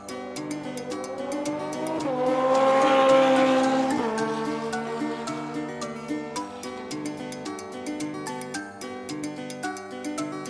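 A toy motorcycle sound effect plays as a bright, buzzing engine-like tone that rises to a peak and then falls away, followed by a steady tonal drone, with no talking.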